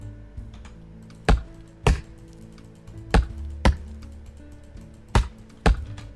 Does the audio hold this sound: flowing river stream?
no